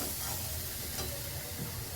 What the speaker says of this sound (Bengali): এই যে শাক ভাজছি